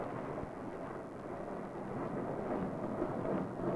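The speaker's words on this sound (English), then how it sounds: "Listen, that sounded like thunder." Thunder from a summer storm rolls as a low, continuous rumble in open countryside, a distant, muffled roar that swells slightly toward the end with no voices.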